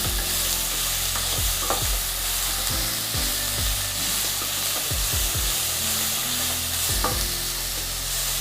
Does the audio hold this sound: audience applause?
no